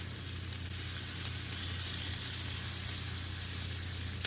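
Sliced onions sizzling in a pan, a steady, close frying hiss that holds evenly throughout with a low hum underneath.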